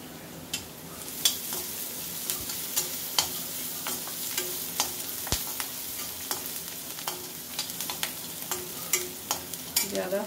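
Cumin seeds sizzle in hot oil for masala oats, a steady bubbling hiss punctuated by regular sharp clicks of a spoon stirring against the pan, with no voices.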